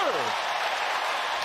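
Crowd applause fills a Clippers basketball game arena, a steady wash of clapping that swells after a brief falling tone and holds to the end.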